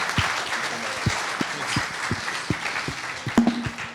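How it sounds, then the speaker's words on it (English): An event audience gives a round of applause for a startup founder at a pitch session, thick clapping throughout with a few sharper, louder individual claps standing out. "A big round of applause for Gadder."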